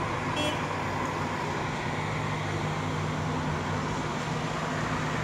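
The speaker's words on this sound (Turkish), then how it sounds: "Bugün acayip bir trafik var." Heavy road traffic in Bartın gives a dense, steady wash of passing vehicles and engine noise, with a faint horn toot near the start and no voices.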